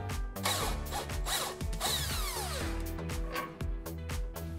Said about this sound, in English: And then we can fully remove our nut and disconnect our tie rod.